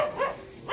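A dog outside gives a couple of short, close barks, brief and moderately loud, with no other sound around them.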